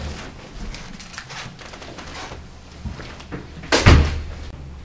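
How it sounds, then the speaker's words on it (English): A door in a county courtroom swings shut with a solid thud near the end, after a few seconds of soft shuffling and room noise, fairly close and loud. "Laura, will you close that door, please?"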